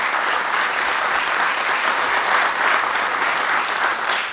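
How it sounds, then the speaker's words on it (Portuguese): Steady, dense applause fills a solemn anniversary session of a philharmonic band in Terra-Chã, a large audience clapping continuously at an even level from start to finish. "Uma salva de palmas para essas três pessoas"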